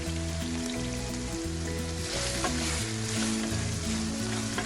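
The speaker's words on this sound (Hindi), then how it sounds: "मज़ीद 3 से 4 मिनट तक अच्छी तरह से भुनाई करेंगे ताकि जो दही और क्रीम है वो अच्छी तरह से पक जाए।" Mutton karahi frying with yogurt and cream in a pan gives off a steady, dense sizzle that carries on unbroken, with a low tonal hum from music or a stove underneath and no one talking.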